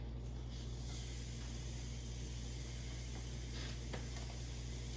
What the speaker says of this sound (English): Sear this on all sides for about a minute aside.